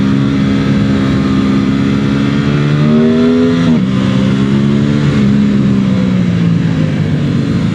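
An Aprilia RS 660 motorcycle engine revs up hard through close-spaced quick-shifter gear changes. The pitch climbs, drops sharply with each fast shift, then climbs again, loud and steady throughout with no talking.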